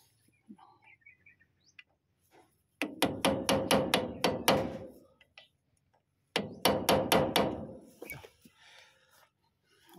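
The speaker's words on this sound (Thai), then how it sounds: "สิวนี่ก็เป็นสิวจากญี่ปุ่นนะครับเนี่ยของญี่ปุ่นนะซื้อจากตลาดนัดญี่ปุ่นเอาไว้ตอกไม้" A Japanese wood chisel is struck with a hammer in two quick bursts of about six sharp, ringing blows each, close and loud against a quiet background with faint birdsong.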